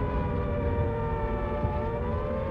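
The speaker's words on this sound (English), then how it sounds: "That night, the sirens went quite early." Air raid sirens sounding over a city at night during the Blitz, a steady, loud wailing tone held continuously with a low rumble underneath.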